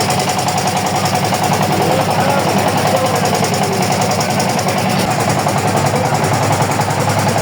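A trawler boat engine drones steadily while crossing floodwater at Char Kadira, Lakshmipur, with a continuous close, throbbing hum and light vibration and no breaks.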